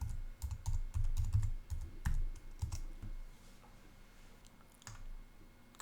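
Keys tapped on a computer keyboard while a password is entered, a quick run of close, light clicks that slows and thins out toward the end.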